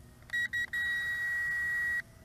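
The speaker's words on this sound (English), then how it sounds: "some beeping going on and the quadcopter has turned around 180 degrees and is coming back" A Potensic D58 GPS drone beeps as it starts its return to home: two short beeps, then one long steady tone lasting over a second, clear over a low background hum.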